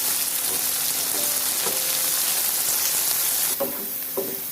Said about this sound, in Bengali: এগুলোকে ভালো করে ভাজতে হবে।